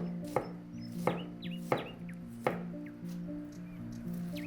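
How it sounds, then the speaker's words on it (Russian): A knife slices thinly through a medium-sized head of cabbage on a board, five or six crisp, evenly spaced cuts over a steady background hum. "теперь тоненько нарезаем качан капусты"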